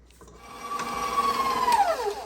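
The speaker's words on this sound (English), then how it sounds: "I'm going to scrape down the sides, and I'm going to mix this again till everything's combined." A spatula scrapes down the sides of a bowl of Italian rainbow cookie batter, a close rasping rub that slides downward in pitch over about two seconds.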